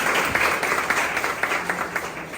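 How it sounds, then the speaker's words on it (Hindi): A church congregation claps together to thank the Lord during a service, a dense, steady burst of applause close by throughout. "ताली बजा के प्रभु को धन्यवाद कर सकते हैं।"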